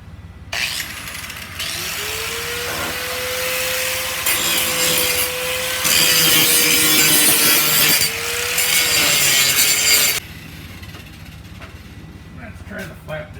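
A power tool cuts out sheet metal on a 1979 Ford F150 project truck with a loud, continuous grinding rasp that shifts in pitch and intensity across several passes, then cuts off, leaving a quiet shop.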